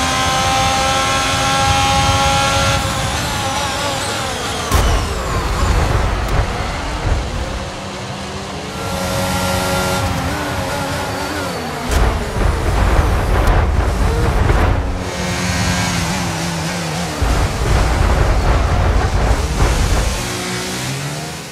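Formula 1 car engines in the racing game F1 22, high-pitched whining revs climbing and falling through gear changes, with several cars droning and surging close by at race start.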